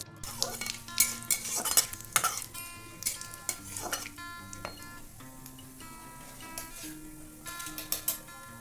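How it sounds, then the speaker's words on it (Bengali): Whole cumin, bay leaf, dried chilli, cinnamon and cardamom crackle in hot oil for a Bengali wedding-style chana masala, with sharp metal clinks of a spoon against the pan over a steady low tone. "দিয়ে দিচ্ছি গোটা জিরে, আর দেবো তেজপাতা, শুকনো লঙ্কা, গোটা দারচিনি আর গোটা এলাচ। ফোড়নটা কিছুক্ষণ ভেজে নেব।"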